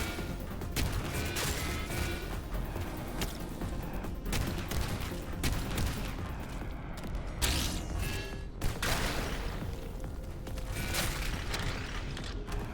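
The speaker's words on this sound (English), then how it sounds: "Oh, they've got homing missiles." Homing missiles in an Armored Core-style mech video game launch in rapid bursts of sharp, crackling blasts and mechanical clatter, layered in a dense, busy stream of combat noise with no one speaking.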